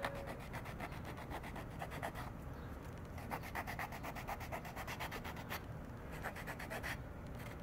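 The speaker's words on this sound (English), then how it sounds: "As you can see, it sands very easily." Small sanding block rubbed back and forth over leather for a pouch, a quiet, close, rhythmic scratchy stroking in quick bursts with brief pauses.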